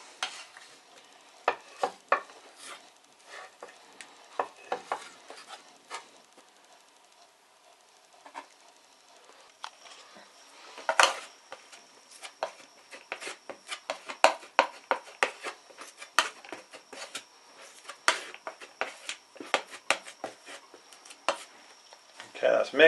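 Two-part wood filler worked on a small Perspex sheet: a long run of irregular scraping and tapping clicks from the mixing tool, close and fairly quiet, busier toward the end.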